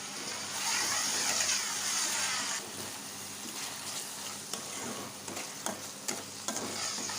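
Ginger garlic paste frying with onion in a pan, a steady close sizzle with stirring scrapes, louder in the first seconds and then settling into a softer continuous crackle.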